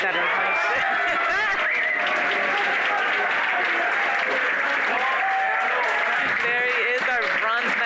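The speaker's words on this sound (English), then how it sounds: "Giuseppe Giordano, the crowd is going crazy" Crowd applauding the bronze medalist at a men's 50m pistol shooting final at an ISSF World Cup in Milan, loud sustained clapping and cheering filling the whole stretch.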